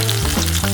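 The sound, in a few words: potato smileys frying in boiling oil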